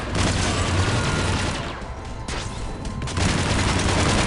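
Rapid rifle fire in Mass Effect, a loud continuous fusillade of shots with booms, pausing briefly in the middle before resuming at full intensity.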